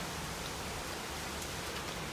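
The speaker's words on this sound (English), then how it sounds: "I got heavy rain" Steady, dense hiss of heavy rain pouring down in a storm, constant and even throughout, with no voices.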